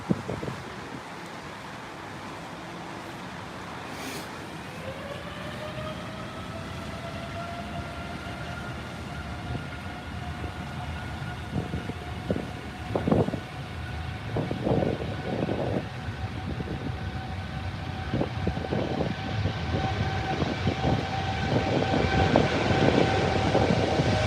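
Jet engines spool up to takeoff thrust, with a rising turbine whine that climbs and then holds steady while a broad engine roar swells gradually louder over the long stretch.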